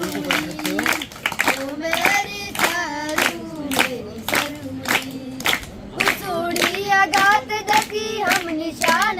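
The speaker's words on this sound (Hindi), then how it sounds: "ताली बजाओ।" Rhythmic hand clapping at a school Independence Day children's performance, sharp regular claps keeping time with a sung folk-style song, with children's voices singing throughout.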